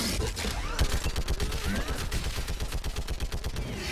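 Sustained rapid gunfire in Mass Effect Legendary Edition, a dense, loud stream of closely spaced shots rattling steadily throughout like an automatic weapon firing without pause.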